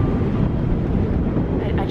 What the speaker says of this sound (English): Wow, it is so awesomely windy.